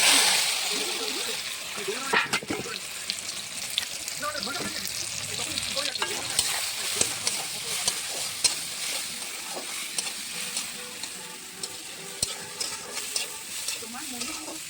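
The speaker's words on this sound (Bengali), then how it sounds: "দেখো যেটা মাখিয়ে রেখেছিলাম, মিক্সড করানো ছিল, ওটা এখন দিয়ে দেবো গরম তেলে।" Marinated soybean chunks fry in hot oil with a loud, steady sizzle. Scattered crackles and the scrape of stirring come through as a person talks.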